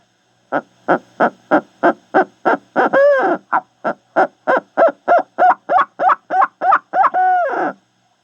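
A person imitates a barred owl by mouth: a steady run of short, throaty hoots, twice breaking into a longer rolling, laughing call, close and loud.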